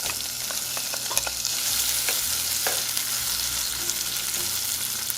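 Onions fry in oil and butter in a pot, giving a constant crackling sizzle with occasional clicks and scrapes from stirring, close and steady, with no talking.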